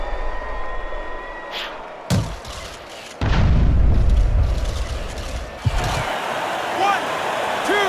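Heavy punches thud and crack in a Fight Night Champion boxing match between Andy Ruiz Jr and Joseph Parker, a few loud booming impacts with crowd noise and a commentator talking throughout.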